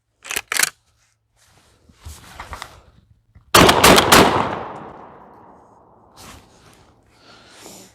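A Girsan MC312 semi-automatic sport shotgun fires high-brass Remington Nitro shells outdoors: two sharp close shots at the start, then a louder rapid string of blasts with a long echoing decay, and faint handling noise afterward.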